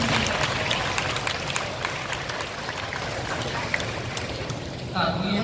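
An audience at a Korean educational lecture gives a dense, sustained round of applause that fills the whole stretch before easing off near the end.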